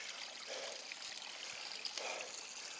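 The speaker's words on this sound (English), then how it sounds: "decided to stop, filter some water out of that spring that Sheba's standing in" A small mountain spring in Piney Creek Wilderness trickles with a faint, steady, gentle burble, with a dog standing in the water. The flow is soft and continuous, and no voices are heard.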